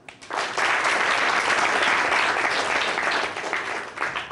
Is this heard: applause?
yes